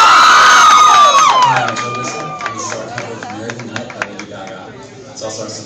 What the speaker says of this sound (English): Get ready, yell, scream, and act a fool.